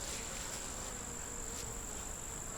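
Honey bees buzz steadily around a double-deep nuc hive at a bee yard, a faint, even drone with a high sustained tone running through the whole short stretch.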